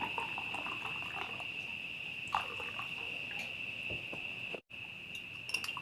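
Warm water being poured over an herbal cough remedy with honey, a soft steady liquid trickle with a faint bubbling hiss, close and continuous, with a brief pause near the end.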